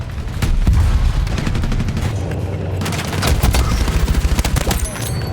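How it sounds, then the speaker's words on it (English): Bot gunfire in the video game Battlefield 6, dense bursts of rapid automatic shots and booming blasts, loud and continuous, with a sustained rattling volley near the end. "The bot was just shooting at random shit."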